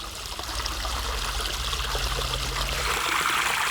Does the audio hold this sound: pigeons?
no